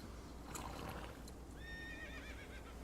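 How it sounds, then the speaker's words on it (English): Horse neighs in a video game, a whinny with wavering harmonic tones around 1.6–2.5 s over steady game background noise, with faint hoof clip-clop earlier. "That's the exact same horse sound that they use in Ocarina of Time."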